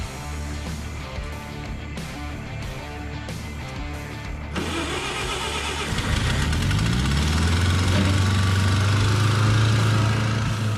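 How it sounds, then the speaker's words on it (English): Bobcat skid steer engine running while moving dirt on a backyard mountain bike trail, a loud close diesel drone that rises in revs and pitch partway through, with steady rumbling and no talking. "I'm gonna get in the bobcat and start moving dirt in here"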